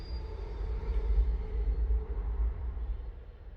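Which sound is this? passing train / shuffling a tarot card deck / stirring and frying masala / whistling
passing train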